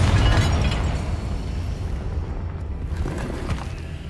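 A Confringo spell explosion in Hogwarts Legacy blasts loudly at the start as a deep, rumbling boom, then decays into a sustained low roar that fills the rest of the moment without talk.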